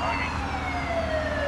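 A wailing emergency vehicle siren from the city-building video game SimCity 4 sweeps steadily and loudly, with a voice talking over it.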